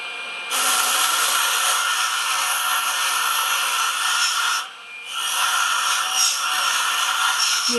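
A 3M 400 grit radial brush spins on a Jooltool X, giving a steady, loud abrasive hiss that dips briefly near the middle and then resumes, with no voices.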